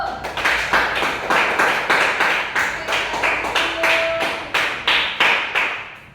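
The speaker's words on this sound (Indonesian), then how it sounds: "Tepuk tangan untuk kelompok 1." A classroom of primary school pupils claps for a student group, a steady run of sharp, fairly loud hand claps in loose rhythm across the whole stretch, with a faint background voice.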